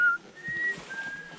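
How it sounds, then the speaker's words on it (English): Birds whistling in trees, a few thin sustained tonal notes drifting at steady pitch, quiet and somewhat distant over soft low rustling and faint background murmur. "You can hear them, can't you? Where they're whistling."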